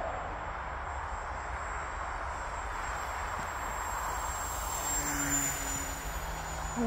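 A HobbyKing Pioneer retro RC model airplane flies in fog, its small engine giving a steady distant drone that holds level throughout, with a faint rising tone near the end and no talking.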